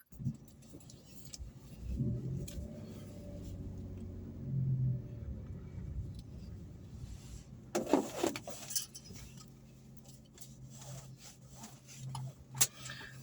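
Keys jangle, a door thuds, then an engine rumbles steadily as a car pulls away, with occasional clatter and knocks nearby.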